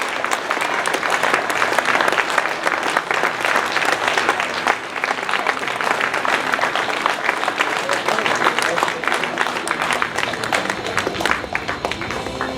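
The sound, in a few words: theater audience applause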